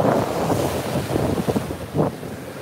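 Pacific Ocean surf at Huntington Beach, California rushes and washes close by, mixed with heavy wind buffeting on the microphone and no talk.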